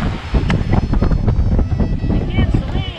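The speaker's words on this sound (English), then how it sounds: "Beating against the wind." A sailboat beats against the wind off the northwest coast of Ibiza, with a loud close roar of wind on the microphone and rushing water along the hull.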